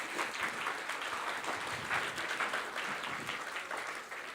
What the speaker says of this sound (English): So I think you deserve to have a big applause again.